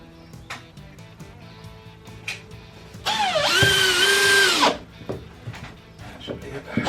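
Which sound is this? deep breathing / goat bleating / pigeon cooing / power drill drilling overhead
power drill drilling overhead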